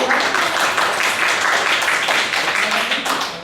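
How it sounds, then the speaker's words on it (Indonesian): A classroom audience claps for a presentation group, a dense continuous patter of many hands, close and steady, fading slightly toward the end. "Oke, kita tepuk tangan untuk kelompok"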